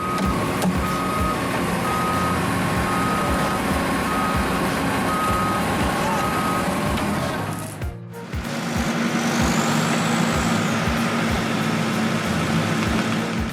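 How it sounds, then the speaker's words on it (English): A Caterpillar D5K2 LGP bulldozer stuck in swamp mud drones with a steady, loud engine rumble, while a reversing beeper repeats through the first half and the machine noise dips briefly before surging back. "Before you is the Caterpillar D5K2 LGP bulldozer."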